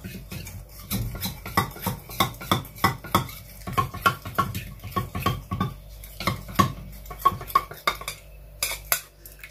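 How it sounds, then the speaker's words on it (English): A spoon stirs yogurt and skin-care ingredients together in a bowl, giving a steady run of soft scraping taps and clinks close by with no talking. "So I will be using a little of my yogurt. And I'm going to mix everything together."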